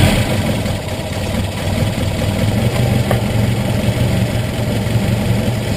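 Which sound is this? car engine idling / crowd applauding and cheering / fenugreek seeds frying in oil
car engine idling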